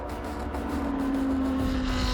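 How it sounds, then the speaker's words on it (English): A safety car driving on the track at the Spa 24-hour race, a steady engine drone with a rising whine, fairly quiet and continuous for a couple of seconds. "the safety car gets back on track"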